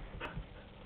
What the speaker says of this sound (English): Nikki, this is my dog Nikita.